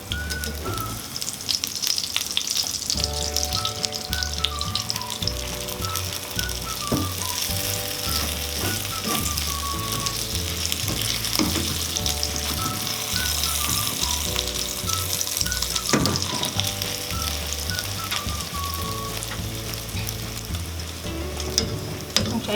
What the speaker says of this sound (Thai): ทอดแบบใจเย็นๆ